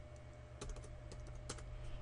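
Typing on a computer keyboard while entering values in Adobe After Effects, a few soft, close key clicks in an irregular rhythm over a steady low hum.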